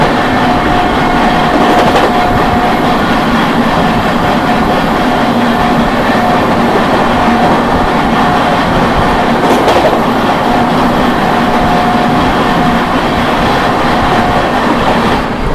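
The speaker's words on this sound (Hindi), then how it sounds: "ओवरटेक दिखाते हैं आप लोगों को Rewa Anand Vihar terminal Rewa superfast express का। Overtaking Rewa superfast." Prayagraj–New Delhi Humsafar Express overtaking the Rewa–Anand Vihar Terminal Rewa Superfast Express, a loud, steady rumble of rolling rail cars heard close up from onboard, with continuous clatter of wheels on track and a faint thin squeal.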